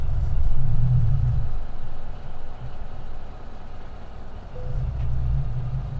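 A heavy truck in Euro Truck Simulator 2 idles and rumbles low while backing up, its deep engine swelling and easing, with a faint high reversing beep briefly cutting through.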